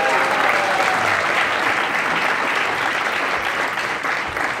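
A gathered crowd gives another round of applause, steady and fairly loud clapping that holds throughout and eases slightly near the end, with some voices blended into the noise.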